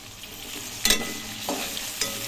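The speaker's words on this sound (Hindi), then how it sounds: "टमाटर को अच्छे से हम 2 मिनट भूनेंगे।" Chopped tomatoes and garlic fry in a pan for an aloo keema, giving a soft, steady sizzle broken by a few scraping stirs. The sound stays faint, with no talking.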